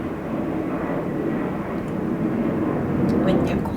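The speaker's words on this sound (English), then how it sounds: "I'm sorry, there's nothing I can do about the planes." Airplanes pass overhead as a steady, broad engine rumble that swells slightly toward the end, with a faint talking voice underneath.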